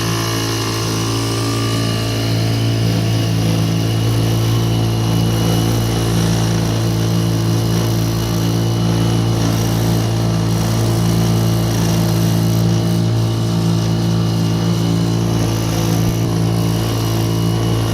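A small 2-horsepower outboard motor drives a boat, holding a steady, loud, droning hum with no break throughout.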